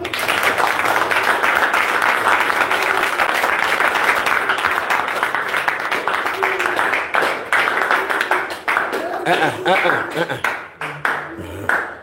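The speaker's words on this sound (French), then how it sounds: "Jésus, applaudissez pour le Seigneur Jésus." A church congregation applauds steadily and loudly, the clapping fading out toward the end with scattered last claps.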